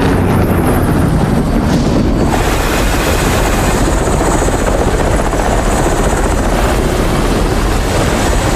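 A helicopter's rotor and engine roar loud and continuously at close range, with wind buffeting the microphone throughout.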